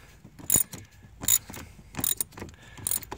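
A 13 mm ratchet working loose a tight self-locking nut on car brakes, with close, sharp clicking pawl bursts repeating in short rhythmic pulls.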